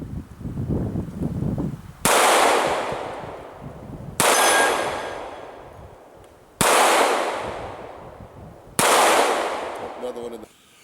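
Four loud, sharp .45 ACP shots from a compact stainless Kimber 1911 pistol, each ringing off a 6-inch steel plate and decaying over about two seconds, evenly spaced, with some faint talk at the start.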